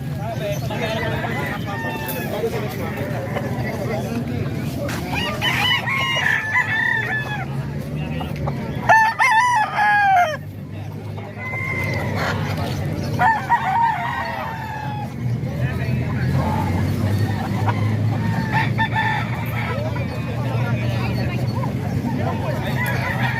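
Bull stag roosters crow repeatedly in a group, several overlapping calls close by, with clucking, a passing car and people talking in the background.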